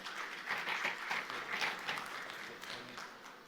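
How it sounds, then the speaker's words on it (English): Faint applause from a conference audience welcoming a panelist at a session on Africa's financial future, a soft even patter of many hands heard at a distance, tapering off toward the end. "Let's welcome him with a round of applause."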